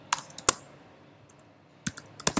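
Computer keyboard keys click in short irregular bursts, a few sharp taps at the start and a quicker cluster near the end, close and dry with a quiet gap between.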